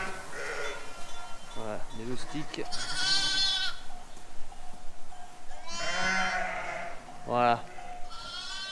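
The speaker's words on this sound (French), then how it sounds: "on va aller voir les brebis qui ont fait les agneaux" Timid, wavering bleats from ewes and their newborn lambs come from close by in a farm pen during lambing season, several calls overlapping, while someone talks briefly among them.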